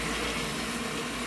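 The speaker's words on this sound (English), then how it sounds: "You can hear the water running. Like I said, that was the hot water solenoid." Hot water solenoid opening on a washing machine being tested for clothes coming out wet, with water rushing steadily into the drum as a continuous close hiss.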